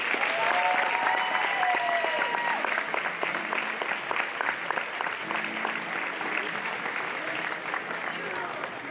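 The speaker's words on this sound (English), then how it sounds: "let's give all of our seniors one big round of applause" A gym crowd at a high school basketball game, Valley View versus Nettleton, gives the seniors a long round of applause. It is loud, continuous and fairly close, with a few voices calling out over it.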